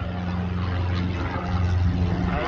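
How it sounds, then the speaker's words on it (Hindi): Small propeller plane flying near Brighton City Airport, a steady loud engine drone with low droning harmonics holding throughout, close and continuous with no talk. "ये आवाज़ बहुत करते हैं क्योंकि इसमें पंखे हैं"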